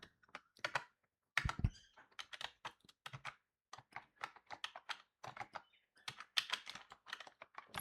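Typing on a computer keyboard: rapid, close clicking keystrokes in irregular bursts with short pauses between them, steady throughout and alone without speech.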